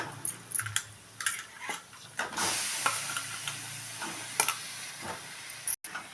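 Chicken pieces stirred into a spicy chili and turmeric masala in a pan, with a steady sizzling hiss under repeated scraping and clinking of a spoon against the pan, close by.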